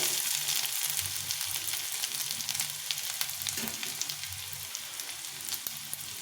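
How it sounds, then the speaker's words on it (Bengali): Chopped garlic, about four cloves, frying in oil over a very low gas flame, giving a steady close sizzle with soft scraping and stirring sounds and no voices throughout. "রসুনগুলো দিয়ে দিলাম দিয়ে আবার একটু ভেজে দিচ্ছি"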